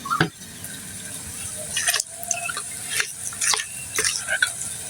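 Roasted eggplant bharta is mashed by hand with mustard oil, giving soft, wet squelches and slaps in irregular bursts, close and moderately loud, with someone speaking at times between them.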